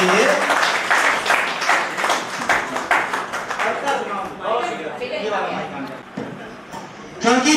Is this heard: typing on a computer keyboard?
no